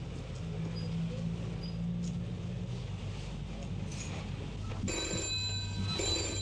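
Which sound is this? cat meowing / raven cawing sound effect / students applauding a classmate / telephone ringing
telephone ringing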